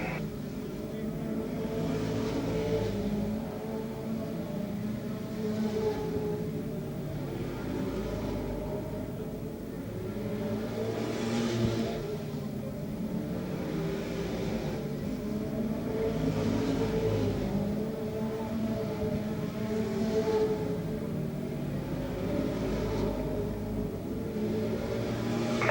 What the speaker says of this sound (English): Mel Wallen, the leader, as he is opening up a big lead over the second place car number 125 of Doug Lane.